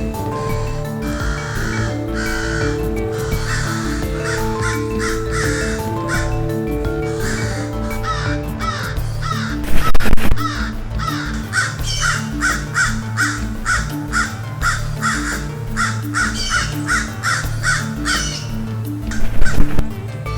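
Crows in Florida caw repeatedly in loud, rhythmic bursts, with a few harsher calls standing out, all over a steady layered musical background.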